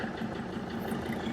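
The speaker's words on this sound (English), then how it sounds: "So if I start my van here," A Mercedes T1N Sprinter van's engine idles steadily, a soft continuous low hum with light vibration and no voices over it.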